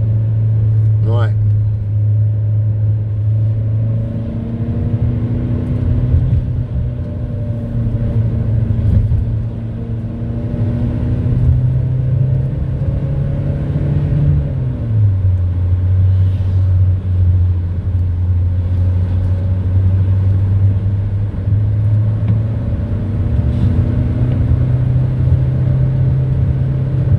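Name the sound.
car engine revving to 4000 rpm in manual mode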